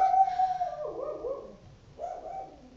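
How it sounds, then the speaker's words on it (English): A dog barks twice in drawn-out, wavering, howl-like calls, fairly close and heard on its own with no talking. "My dog just started barking and freaked me out."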